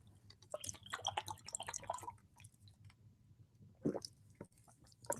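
Gulps and wet swallowing from a water bottle, a quick run of soft liquid sips and squishes followed by a pause, then one more brief drink, close and fairly quiet with no talking.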